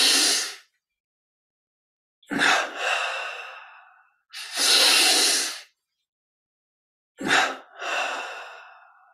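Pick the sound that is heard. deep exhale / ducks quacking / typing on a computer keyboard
deep exhale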